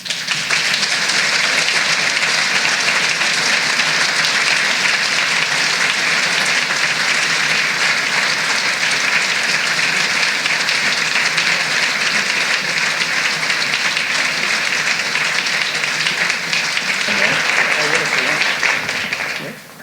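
Sustained, dense audience applause for author Richard Wagamese fills the hall steadily from start to finish, with a brief dip and swell near the end.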